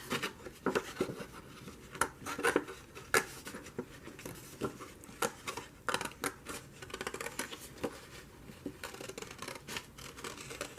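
Scissors snip close around the edge of delicate paper for a junk journal page, a run of crisp, quick cuts in uneven bursts, close and fairly quiet with no talking.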